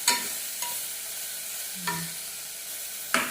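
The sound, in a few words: frying and stirring in a pan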